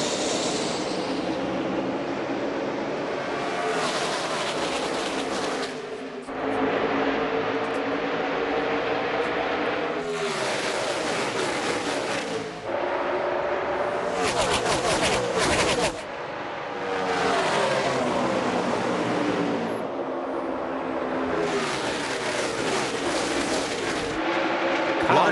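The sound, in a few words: NASCAR race cars at the start of the race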